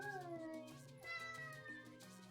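A cat named Murphy meows in a long, drawn-out, wavering cry, close and clear, followed by a second shorter meow.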